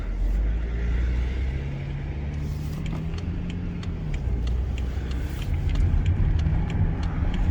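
A newly bought project car pulls away from where it was parked, its engine giving a steady, close low rumble that swells slightly toward the end, with no voices.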